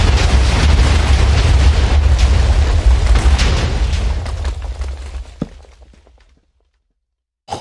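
A TNT explosion in the Minecraft video game gives a loud rumbling boom that rolls on for several seconds and fades into smaller pops before silence.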